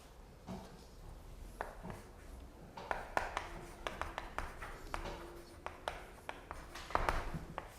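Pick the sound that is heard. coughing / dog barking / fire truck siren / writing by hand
writing by hand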